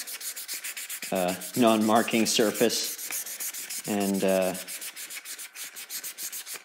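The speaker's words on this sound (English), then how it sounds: "I do most of my hand sanding of handles on my knee." A wooden chef knife handle is hand sanded against the knee with fine grit paper, giving a steady close rapid scratching of back-and-forth strokes beneath someone talking.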